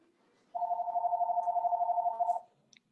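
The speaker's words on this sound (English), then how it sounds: "That's my phone." A phone rings with a steady warbling electronic tone lasting about two seconds, moderately loud against a quiet background during an online meeting.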